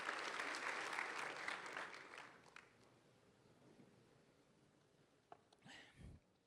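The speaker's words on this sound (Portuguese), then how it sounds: "Dá uma salva de palmas para o Senhor." A church congregation applauds during a Sunday sermon service, the clapping moderately loud at first and fading away over a few seconds, followed by a quiet stretch with a few faint thumps and movement near the end.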